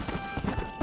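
Hooves of a skeletal undead horse in Red Dead Redemption: Undead Nightmare clop in a short, uneven rhythm, close and moderately loud against a muffled game background, with no voice over them.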